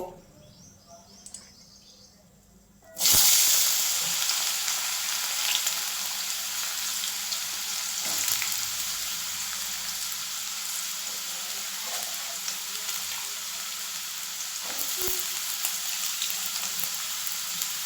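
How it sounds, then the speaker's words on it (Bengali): Potatoes dropped into hot oil with a dried red chilli and a bay leaf burst into a loud, sudden sizzle that settles into a continuous fry, with faint chirping in the background and a few utensil knocks. "এবার আমি এর মধ্যে আলুটা ছেড়ে দেব"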